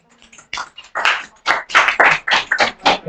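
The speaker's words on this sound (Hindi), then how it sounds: "अरे लो बजा लो, लड़की के लिए भी ताली बजा लो भाई।" Students in a classroom clap for a girl classmate, with a burst of close, irregular claps from several hands that quickly grows denser, and no speech over it.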